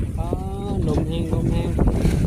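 Gusty wind ahead of an approaching rainstorm buffets the microphone outdoors near a small rural hut, a steady rushing roar under someone talking.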